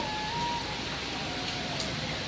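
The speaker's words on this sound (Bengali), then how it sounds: "দেখতেই পাচ্ছ কতটা বৃষ্টি পড়ছে" Steady, dense hiss of heavy rain falling without a break, close and fairly loud, with no voices.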